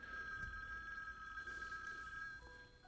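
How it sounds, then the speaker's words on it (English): A telephone bell rings in the film Chinatown, a steady sustained ring that runs for most of the moment and fades near the end over a quiet, hushed background. "After all this, then the phone rings."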